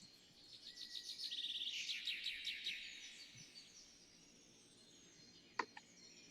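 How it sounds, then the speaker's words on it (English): Birds chirping in a forest grove at morning after a night of storms: a faint flurry of quick, high twittering notes in the first few seconds, then quiet with a couple of brief sharp clicks near the end. "You can still hear the bird chirps"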